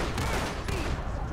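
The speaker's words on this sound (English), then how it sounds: "Who are we shooting at?" Gunfire from police officers in the GTA LSPDFR game, with North Yankton State Patrol units in the city: a loud, dense burst of overlapping shots filling the short moment, with some talk mixed underneath.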